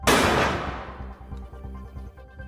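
A rifle shot in a film scene: one sharp, loud bang at the very start that decays into a fading tail, followed by a low rumbling background.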